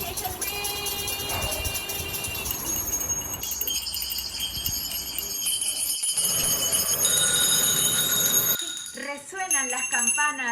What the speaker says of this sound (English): Let the bells be heard.